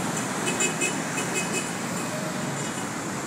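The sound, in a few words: car horns honking in traffic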